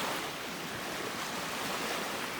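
Lake Superior-style beach waves along the North Country Trail between Grand Marais and Tahquamenon Falls, heard as a steady, full wash of surf with no breaks and no talking.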